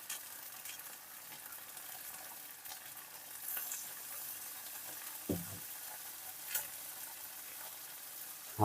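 Sliced pointed gourd (potol) sizzles in a pan, a faint, steady hiss of frying broken by a few soft scrapes and clinks as it is stirred.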